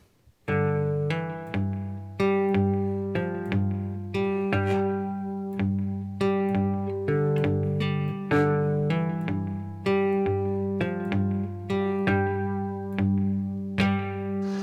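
A twangy, resonant cigar box guitar plays a slide blues riff alone, repeating plucked notes in a steady bluesy rhythm over a droning low string.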